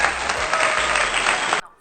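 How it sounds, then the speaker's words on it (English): Audience applause at a talk on making money through content creation, a dense burst of clapping from many hands that cuts off abruptly near the end, with some voices beneath. "let us clap"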